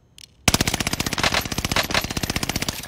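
Sustained automatic gunfire in a shooter video game, a rapid even stream of close, loud shots running about two and a half seconds until the weapon runs dry, preceded by a brief faint sound.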